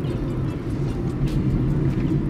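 A car drives along a road in Cape Town, giving a steady low rumble of engine and tyres from inside the cabin, continuous and fairly loud, with no talk.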